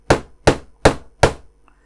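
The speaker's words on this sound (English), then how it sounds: "I am going to just use the flat side of my duckbill pliers here just to bang that into place" Four sharp metallic taps, evenly spaced about a third of a second apart, as the flat side of duckbill pliers knocks a part of a 1967 Shelby Mustang Super Snake model car into place; close and loud with no talking.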